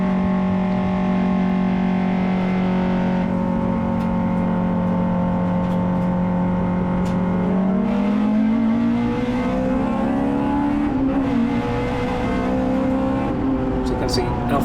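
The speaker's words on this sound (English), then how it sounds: "So you can hear the revs rising." The engine of a Honda Integra DC2 race car at a circuit holds a steady loud drone, then its revs climb smoothly as it pulls away, with a voice talking over it.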